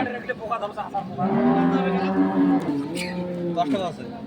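At the Ambari cattle haat in Dinajpur, Bangladesh, a Jersey milk cow gives one drawn-out, resonant moo, followed by a shorter lowing call, with people talking faintly around it.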